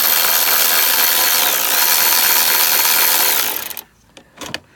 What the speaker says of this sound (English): It does make it a lot easier to have an electric ratchet.